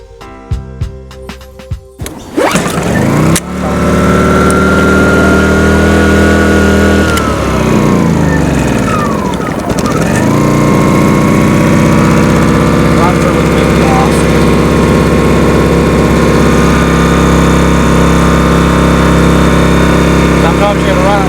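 A portable generator engine starts after a few rattling pulls and settles into a loud, steady drone close by. Its pitch shifts a couple of times as it runs, and a person talks over it.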